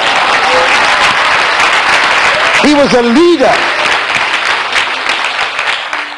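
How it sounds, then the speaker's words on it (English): A church congregation claps and cheers at a sermon, a broad wash of applause filling the room while a preacher's voice rises over it. "Clap your hands, somebody."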